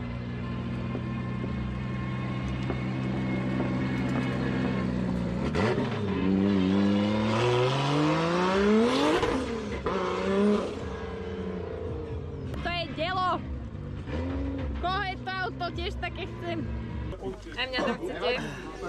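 A drift car revs on the race track at Drift Challenge Panenský Týnec, its engine pitch climbing in a long rising sweep at mid-distance before choppier bursts, while people talk close by throughout.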